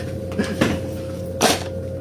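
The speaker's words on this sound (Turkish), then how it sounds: "Kapı çaldı." A few dull knocks sound on a door amid a steady hum, irregular and moderately near.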